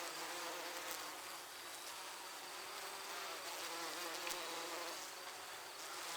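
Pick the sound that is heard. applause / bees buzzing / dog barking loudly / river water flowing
bees buzzing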